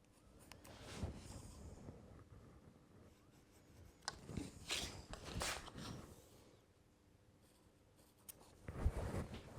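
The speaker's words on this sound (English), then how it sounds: "now with a square and a pencil, I'm going to carry on those knife lines down" A pencil scratches lines along a square on wood for a hand-cut half-blind dovetail joint, making several faint, close scraping strokes in short bursts.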